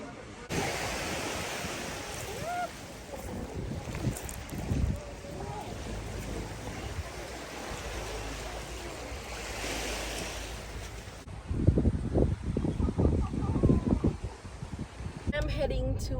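Waves wash onto a beach in Curaçao amid gusting wind and microphone buffeting, a fairly steady rush with louder surges near the end, while a person speaks over it at times.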